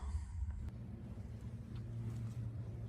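A semi truck called Red Wheels idles in the cold as its engine warms up, giving a low steady rumble that sounds close and runs on without a break.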